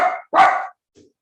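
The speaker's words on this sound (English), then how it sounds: "That was my dog, Tony P." A dachshund lets out two sharp barks in quick succession, fairly close and loud, followed by a faint short yip and quiet rustling.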